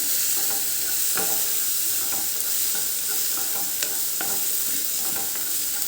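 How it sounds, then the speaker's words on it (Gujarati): Red chili powder and turmeric are stirred into a pan for cheese paneer gotala, a constant close sizzle with repeated light scraping and tapping of the spoon, no voices. "લાલ મરચું પાવડર, 1/2 ટીસ્પૂન હળદર અને એક વખત આપણે મિક્સ કરી લેવાનું છે"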